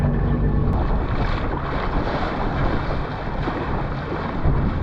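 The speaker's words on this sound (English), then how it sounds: "Oh, big waves." Big ocean waves crash and roar continuously close by at a remote island shoreline, mixed with heavy wind buffeting, with no voices.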